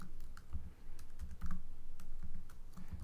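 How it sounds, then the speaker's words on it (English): Rapid, irregular clicks of keys being typed on a computer keyboard, close by, with short bursts and brief pauses. "typing"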